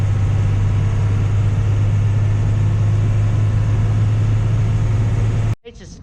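A truck engine labouring uphill on a French autoroute makes a loud, steady low drone and hum that holds evenly before cutting off abruptly near the end.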